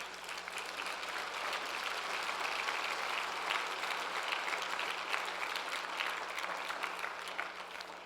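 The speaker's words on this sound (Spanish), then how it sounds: "Dale un aplauso de gloria" A congregation claps in a church service, a steady, even wash of applause with no voices, held at a moderate level throughout, a faint low hum beneath.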